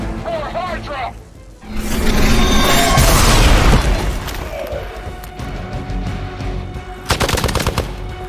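Gunfire in the strategy game Marvel's Midnight Suns: a dense, loud burst of rapid machine-gun fire with booming impacts and crashes, then a short sharp volley near the end, over a busy game soundscape with a voice.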